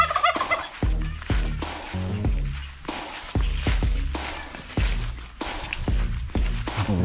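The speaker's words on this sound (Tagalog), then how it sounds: "So yung mga pabo natin mga pastor." Farm turkeys gobble loudly and repeatedly, one burst after another in overlapping calls, with footsteps faintly in the background.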